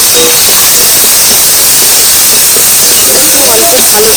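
Chopped onion, ginger and garlic hit a hot pan for onion chop, a loud continuous sizzle and hiss that fills the whole stretch, close up.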